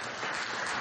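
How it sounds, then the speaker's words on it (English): Audience applause at a synagogue gathering, a dense steady wash of many hands clapping, fairly faint and continuous through the brief moment. "round of applause, thank you so much"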